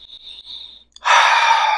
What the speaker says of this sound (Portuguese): eu vou convidar você a respirar profundamente